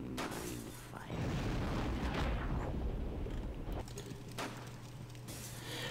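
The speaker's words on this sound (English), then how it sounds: "It's cool, it's just an explosion." Explosion in the tactical game Jagged Alliance 2 Urban Chaos, a deep rumbling blast swelling in the middle with further bursts and crackling debris around it, fairly quiet overall and without speech.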